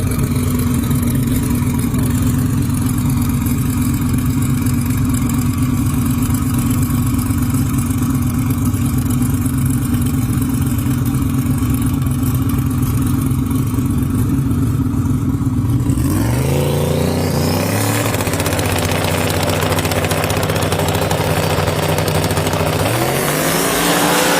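Drag race cars at a Christmas Tree Drag Race World Championship event, a steady loud engine drone that gives way to a sharp burst of revving as the cars launch and accelerate hard down the track, with no talking.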